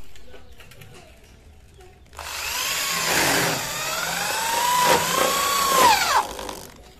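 A power drill drives short screws into a lightweight steel frame for a container-style partition, with a whirring, rising-and-falling whine running for about five seconds after a quiet start.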